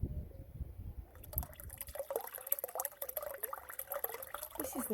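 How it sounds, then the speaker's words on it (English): A solar fountain running in a garden pond, with soft, continuous trickling and splashing water close by and fairly quiet, after a brief moment of low rumble. "It's a solar fountain I have in my pond."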